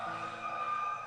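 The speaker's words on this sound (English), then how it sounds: "More sirens. Can you hear them?" A fire engine siren wails steadily from outside, a sustained high tone carrying at moderate level through the whole stretch with no voices over it.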